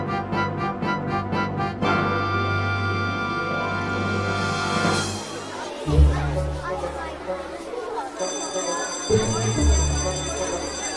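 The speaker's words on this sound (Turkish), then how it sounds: "Zil çalıyor." Cartoon school bell rings in rapid repeated pulses at the start, followed by children's chatter and voices under background music.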